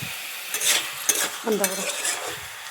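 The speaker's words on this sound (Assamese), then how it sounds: "এনেদৰে মই সকলোখিনি মিক্স কৰি দিছোঁ আৰু এতিয়া ভালদৰে লৰাই আছোঁ" Broiler chicken pieces are stirred in a hot pan for a simple meat curry: a sizzle with a few scraping, clattering strokes of the spoon, close and fairly loud, with no voices.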